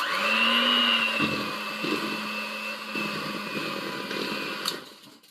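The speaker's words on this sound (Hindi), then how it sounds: "So again beat now at high speed" An electric beater whirs at high speed through eggless vanilla sponge cake batter made from premix, a steady, fairly loud motor whine with slight rattling and pitch wobble as the beaters move through the bowl.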